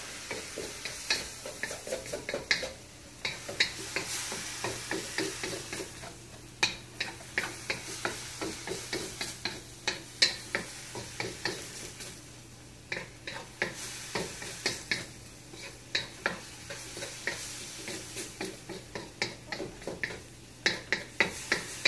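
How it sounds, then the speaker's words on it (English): Cabbage and cauliflower rice stir-frying in a pan: a steady close sizzle under repeated scraping and tapping strokes of a utensil against the pan, in a loose regular rhythm. "stir fry that up."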